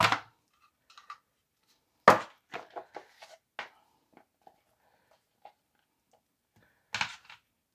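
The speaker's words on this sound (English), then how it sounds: "let's go ahead and try to cut that potato" A French fry cutter slices through a potato with a few sharp chopping thuds, each followed by a scatter of small clicks and taps in an otherwise quiet room.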